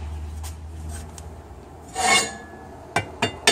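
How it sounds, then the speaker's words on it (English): A tyre lever pries a rubber bump stop (jounce bumper) off the suspension, giving a loud, close rubbing scrape followed by a few sharp knocks and clicks. "And I can lever it off this here now."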